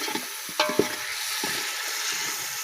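Shrimp biryani masala with chilli being stirred and mixed in a pan over a soft sizzle, with a few distinct spoon knocks and scrapes against the pan, close by and without speech.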